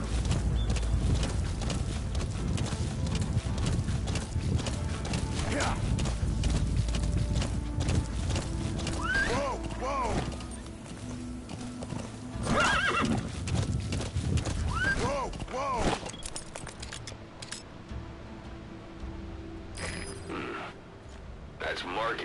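A horse in Metal Gear Solid V: The Phantom Pain gallops with a steady rhythmic clip-clop of hooves, breaking into several loud whinnies, alongside game sounds and a voice speaking intermittently.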